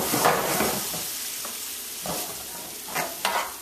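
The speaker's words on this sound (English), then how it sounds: "Next up, we're going to go in with some of that marinara sauce." Marinara sauce goes into a hot pot and is stirred, with a close loud sizzle and repeated scraping stir strokes throughout.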